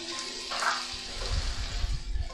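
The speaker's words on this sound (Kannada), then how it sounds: "1 ನಿಮಿಷ ಚೆನ್ನಾಗಿ ಮೀಡಿಯಮ್ ಫ್ಲೇಮಲ್ಲಿ ಫ್ರೈ ಮಾಡ್ಕೊಳ್ಳೋಣ." Chopped tomato frying in a pan over a medium flame for a Karnataka-style avarekalu sagu, a steady low sizzle with a brief brighter stir near the start, close and without talk.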